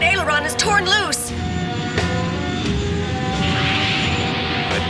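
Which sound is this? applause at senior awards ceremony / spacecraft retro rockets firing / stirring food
spacecraft retro rockets firing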